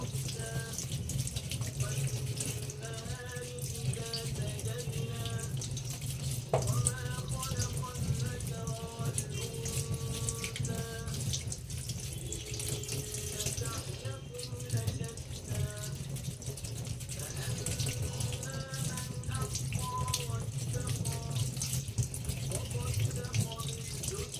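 Kitchen tap water runs steadily into a sink while potatoes are peeled under the stream, a continuous close splashing hiss with faint clinks and bumps throughout.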